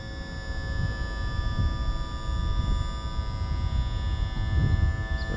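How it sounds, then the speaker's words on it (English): A boat's outboard motor is lowered on its electric power trim, making a steady close electric whine and hum with a low rumbling drone beneath it. "now we're gonna lower our motor"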